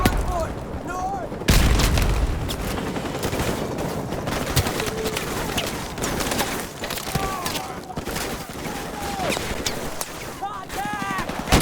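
Grenade blasts and rattling gunfire in the Call of Duty 4 Remastered shooter game, with dense repeated shots and booms over continuous battle noise, while voices shout orders throughout.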